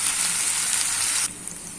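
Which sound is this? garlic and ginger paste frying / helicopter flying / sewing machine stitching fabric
garlic and ginger paste frying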